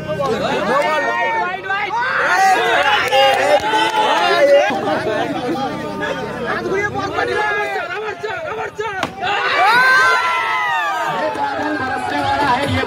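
Dense crowd shouting and cheering at a local tournament cricket match, a continuous loud roar of many voices with rising surges of yelling that swell again near the end.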